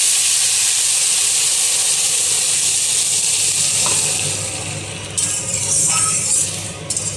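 Water poured into a pan of moong dal fried in a little oil, giving a loud, close, continuous hiss and sizzle that eases slightly toward the end with a few stirring clinks, no voices.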